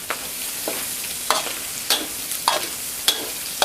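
Garlic and chili stir-fry in a pan of oil, a soft steady hiss broken by a few sharp, bright scrapes or clinks of a spatula at irregular intervals.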